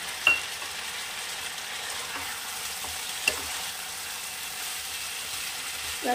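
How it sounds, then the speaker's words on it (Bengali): Vegetables and a spice paste fry in a kadai while pointed gourd malaikari is being cooked, giving a continuous steady sizzle, with a couple of brief clinks of a utensil against the pan. "এটা আরেকটু ভাজা ভাজা করে আমি জল দেব"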